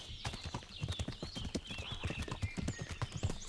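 Rapid clip-clop of horse hooves in the video game Kingdom Come: Deliverance, a dense, steady galloping rhythm with rustling undergrowth and a brief whinny-like cry mixed in.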